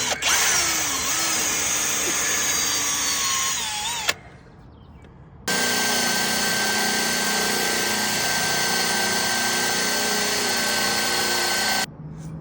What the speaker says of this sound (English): So I'm going to drill my pilot holes for the lights, the fixtures.